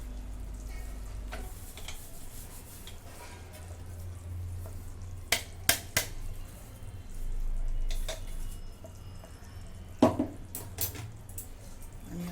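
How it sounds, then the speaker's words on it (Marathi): Sesame, peanut and coconut mixture being stirred into hot melted jaggery in a pan, a soft sizzle and wet sticky scraping with a few sharp clicks of the spoon against the pan. "हे सर्व मिक्स करून घेते"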